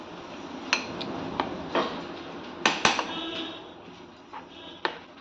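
Semolina batter stirred with a spoon in a metal pot, the utensil knocking and clinking against the rim in a few sharp, separated taps over a soft background.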